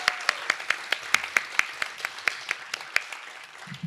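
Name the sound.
audience applause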